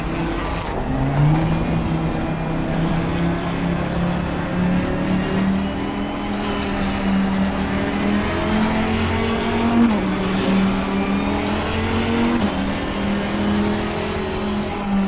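A Porsche race car drives at night in the Assetto Corsa Competizione racing game, its engine a loud, continuous drone that rises and falls with gear changes.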